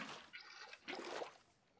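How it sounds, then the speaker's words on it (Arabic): Faint splashing trickle of water pouring from an infinite water source in a block-building crafting game, two short soft bursts over a quiet background. "هنا صار عندنا انفينيتي ووتر"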